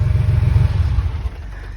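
A car engine rumbles and revs loudly up close, its low throaty drone holding steady before easing off near the end, with a slight crackle from the exhaust.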